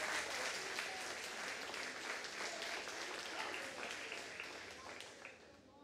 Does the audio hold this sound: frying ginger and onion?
no